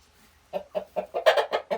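A hen clucks close by in a quick series of about seven short, rhythmic clucks after a moment of quiet.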